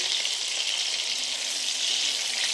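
Chicken seekh kebabs fry in a pan with a steady, dense sizzle that stays loud and even throughout, with no voices over it.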